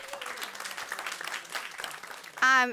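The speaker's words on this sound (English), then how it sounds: "Give them a round of applause." A crowd at a farm sustainability gathering applauds a culinary partner with steady, moderate clapping, and a loud, sustained tonal sound cuts in abruptly at the end.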